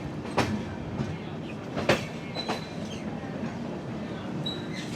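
Tebhaga Express on a new LHB rake, heard from near the track at Kolkata station: a steady rolling rumble with a few sharp wheel knocks and faint high squeals, moderately loud and without talk.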